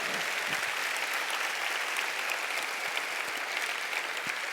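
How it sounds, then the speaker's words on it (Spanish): Steady applause from a crowd, sustained and even throughout without a break, moderately loud and somewhat distant. "si vas a aplaudir tienes que hacerlo mucho más fuerte"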